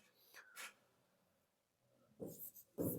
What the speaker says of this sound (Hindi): मैं इक्वेशन लिखता हूं